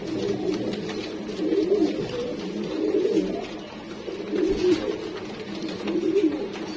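Black-faced pigeons cooing close by in a repeating series of soft, throaty rolling coos, each phrase lasting about a second and returning every couple of seconds.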